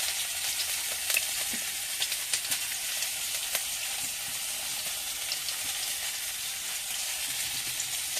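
Panch phoron spice mix sizzling in hot oil in a wok, a steady close crackling hiss with small sharp pops throughout, with no voices.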